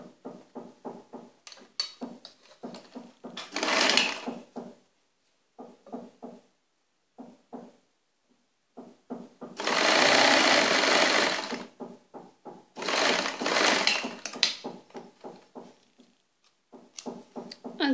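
Sewing machine stitching the seams of an abaya in repeated runs, short stuttering bursts and longer steady whirring passages, loud and close with pauses between them.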